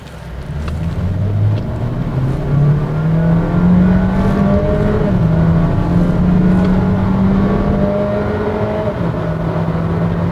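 A Honda Vezel Hybrid pulls away from about 20 km/h as its engine tone climbs smoothly and steadily under acceleration, loud and continuous with road and wind noise throughout.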